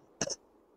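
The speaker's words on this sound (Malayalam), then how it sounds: "അയ്യോ ചുമ പിടിച്ച്" A single short cough bursts out during Malayalam gaming commentary on Shadow of the Tomb Raider, close to the microphone and brief, with quiet surroundings before and after.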